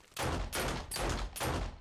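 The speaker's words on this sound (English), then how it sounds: "It seems a shotgun just misses." A shotgun fires four heavy, rapid blasts in quick succession in the video game 7 Days to Die, each loud boom rolling briefly into the next.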